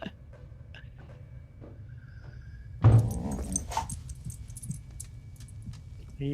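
Dog sounds from the Good Boy movie trailer: faint whimpers and soft dog noises over a low background hum, then a louder burst of rustling and jangling movement near the middle that gradually settles down.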